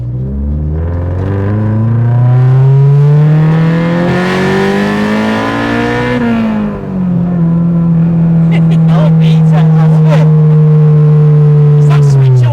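A Civic Type R engine swapped into a Citroen AX revs loud and close, pitch climbing steadily until VTEC switches over with a harder edge, then holds a high sustained drone before easing, with people talking under it.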